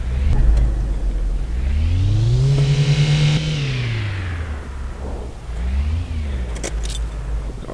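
A car engine in the City Car Driving simulator starts and revs up, rising to a sustained high whine, dropping, then giving a shorter second rev, close and loud with no talk.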